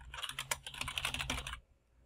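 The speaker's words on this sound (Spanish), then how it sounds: "si escribo no pasa nada" Rapid typing on a computer keyboard while entering text into a game's text box, a quick run of clicky keystrokes for about a second and a half before stopping, close and fairly quiet.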